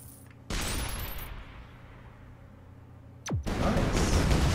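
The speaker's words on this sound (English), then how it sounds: "Phosphorus bomb." Shellshock Live phosphorus bomb: a sudden loud burst of crackling gunfire-like blasts, then a fading rumble, a sharp descending whistle, and a second heavy burst of explosive crackle.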